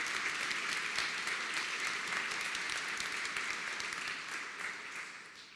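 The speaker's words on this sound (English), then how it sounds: "So let's give them a round of applause" Audience applause for hospital staff at a memorial celebration event, a dense, even wash of clapping heard alone that holds steady and then fades slightly toward the end.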